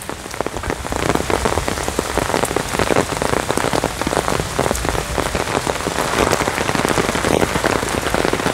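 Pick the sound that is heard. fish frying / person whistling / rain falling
rain falling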